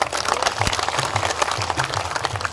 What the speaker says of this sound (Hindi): इनके लिए जबरदस्त तालियां हो जाए